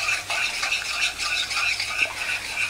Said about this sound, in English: I'm gonna stir it a little bit